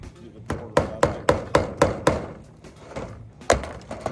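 A hammer strikes wood in a quick series of sharp, close blows, pauses, then lands a couple more hits.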